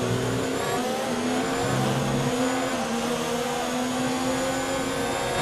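A Formula 1 car in the video game F1 2019, its engine whining loud and unbroken at high revs, with brief pitch shifts as it changes gear during a race.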